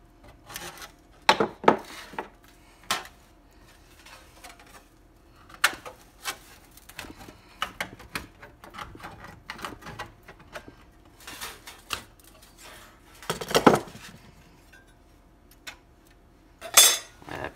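Pliers cutting and working a metal pauldron shoulder armour piece, giving scattered sharp metallic clicks and scraping snips in irregular bursts, close up with quiet gaps between them and no talking.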